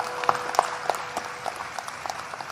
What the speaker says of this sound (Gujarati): એમને એક વખત જોરદાર તાળીઓના નાદ સાથે વધાવો